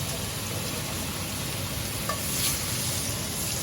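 Oil and butter melting in a hot pan, making a steady, close sizzle that holds evenly throughout with no talking.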